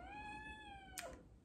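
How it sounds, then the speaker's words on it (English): A roommate's cat gives a single clear meow in a quiet kitchen, rising then falling and ending abruptly with a brief noise. "Excuse my roommate's cat."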